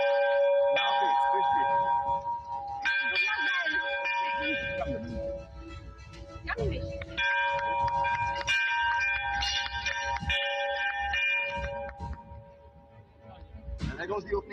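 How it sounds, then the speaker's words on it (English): A stock exchange opening bell rings repeatedly with long sustained metallic tones, while voices and cheering carry on around it. "There goes the opening bell."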